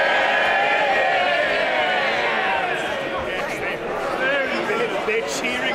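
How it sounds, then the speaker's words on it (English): Members of Parliament cheer in the House of Commons chamber after a division result, a dense sustained roar of many voices that stays loud and steady throughout. "They're cheering a majority of 80."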